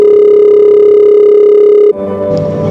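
A mobile phone call produces a steady, loud ringback tone that holds for about two seconds before cutting off into a brief burst of other sound.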